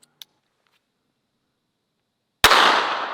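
A single sharp shot from a .22 Long Rifle pocket pistol fired into a torso target cracks loudly after near silence, then fades in a short echoing tail.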